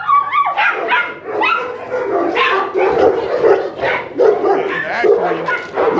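Presa Canario dogs at a kennel bark loudly and repeatedly up close, mixing deep woofs with yips and whimpers in an excited, overlapping chorus.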